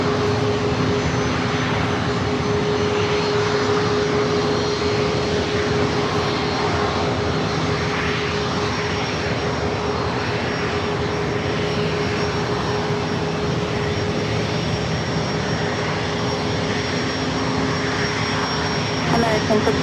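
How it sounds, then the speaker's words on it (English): An American Airlines A321 jet roars at San Diego airport, a loud, sustained engine drone with a steady whine holding throughout, fairly close. Faint talk sits beneath it. "American at A321 heading to Dallas Fort Worth,"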